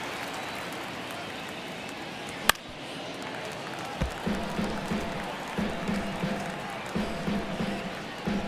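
Stadium crowd in MLB The Show 23 baseball game, a broad steady murmur of many spectators with a sharp crack and rising rhythmic cheering, under a commentator's voice.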